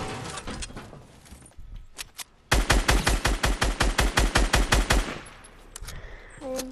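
A rapid burst of automatic gunfire in a shooter video game: about two dozen sharp, evenly spaced shots, close and loud, preceded by quieter scattered pops.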